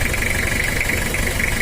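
Toyota Kijang 2L diesel engine, not yet warmed up, running steadily at idle with a constant close rumble and a persistent high whine, no talk over it.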